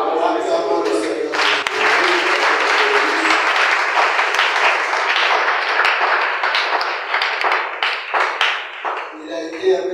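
A church congregation claps and applauds loudly and steadily for nearly ten seconds, dense clapping with some cheering voices mixed in, the clapping thinning toward the end.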